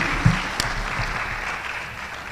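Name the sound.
audience applause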